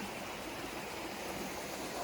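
Creek water flows steadily and close by along a hiking trail crossing between Killington and New Hampshire, a continuous broadband rush with no pauses, heard alone.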